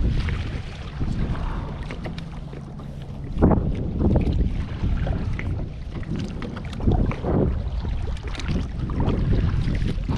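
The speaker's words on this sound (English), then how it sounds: "So I'm just gonna paddle around a little bit" A Bonafide 127 kayak is paddled on open water, with soft rhythmic paddle strokes and splashes under steady wind noise on the microphone and no voices.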